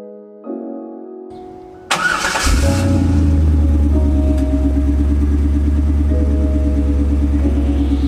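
A Chevrolet Corvette engine starts with a loud crank and catches, then settles into a steady, deep, rumbling idle close by.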